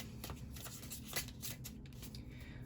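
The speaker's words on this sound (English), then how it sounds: "Let's do one more shuffle." Quiet, steady riffling and flicking of a tarot deck being shuffled, a soft continuous papery patter with no talking.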